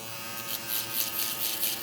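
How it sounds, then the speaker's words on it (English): A Suprent Dark Reaper electric foil shaver runs nearby with a steady high buzz that pulses slightly, no voices. "All right, now I'm gonna take the shaver."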